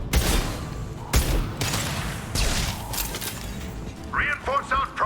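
Concussive shot blasts fire in Mass Effect 2 Legendary Edition, several loud concussive bursts in a row amid combat noise, with voices shouting over the action.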